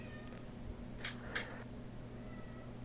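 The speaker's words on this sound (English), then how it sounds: "Cat's meowing." A house cat meows a few times in short, faint cries against a steady background hum, with no talk over it.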